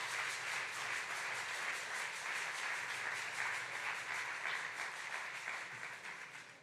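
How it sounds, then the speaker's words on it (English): A crowd claps steadily and energetically for several seconds at a Malcolm X Day celebration, the applause dense and even before tapering off slightly at the end. "Clap it up."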